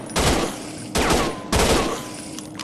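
An overpowered gun in a horror video game fires at spiders: three loud, harsh bursts of rapid gunfire, each cutting in abruptly, with short gaps between them.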